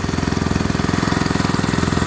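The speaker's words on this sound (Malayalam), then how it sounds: "ഇതാണ് എൻജിൻ ഓടിച്ചുകൊണ്ടിരിക്കുകയാണ്." A motor boat engine on the Kerala backwaters runs steadily close by, with an even, rapid thumping pulse over a low, rough drone and no talking.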